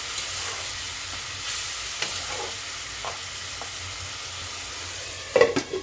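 A soaked spice paste, sweetened with a few grains of sugar and loosened with a little water, sizzles steadily in a pan for a tangra fish curry with potato and drumstick stalks. Occasional stirring scrapes come through, with a louder clatter near the end.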